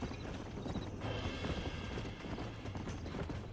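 Rhythmic horse hooves clip-clop steadily at a trot under a dense, noisy background in the video game Red Dead Redemption.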